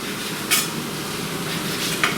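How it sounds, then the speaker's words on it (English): Mushrooms sauté in a hot pan for chicken Marsala, a close, steady sizzling hiss with a couple of brief clinks from stirring, no voices. "we're going to let these start sauteing"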